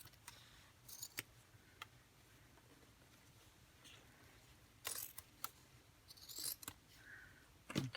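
Scissors trim something off during Halloween pumpkin preparations, giving a few quiet, scattered snips and clicks with pauses between them.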